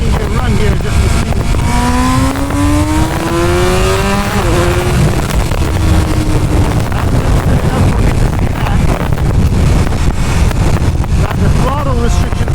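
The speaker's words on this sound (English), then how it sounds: "Let's do a little second gear run here just to see." A 2023 BMW M1000RR motorcycle accelerates hard through second gear, its engine note climbing in pitch under loud, constant wind roar, with a brief shift and rising whine again near the end.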